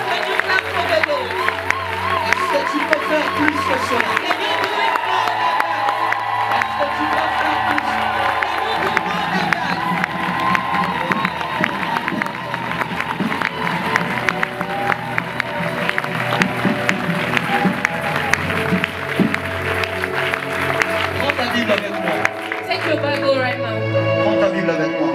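A church congregation cheers and acclaims the king, a dense, steady roar of crowd voices with whoops and clapping that continues throughout, loud and close.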